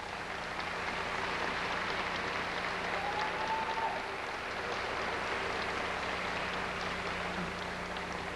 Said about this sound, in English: I'd like to give her a warm round of applause